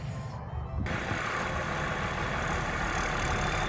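Engine of a tractor working a new garden, a steady low rumbling idle that rises slightly after a brief start, continuous and fairly close with no talking.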